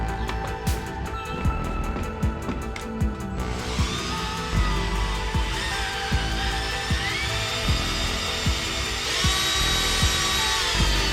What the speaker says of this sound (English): Imagine you didn't have a drill and you had to do this by hand.